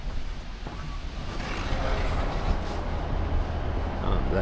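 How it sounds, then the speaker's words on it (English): A ScotRail Class 158 train at Inverness station gives off a steady, broad rumble that builds slightly and holds throughout, a close continuous mechanical hum with no clear speech. "And there's our train."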